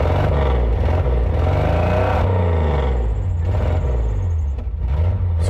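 A 400R motorcycle engine with a White Brothers exhaust revs up and down, its loud, close, rasping drone rising and falling in pitch several times with some clattering.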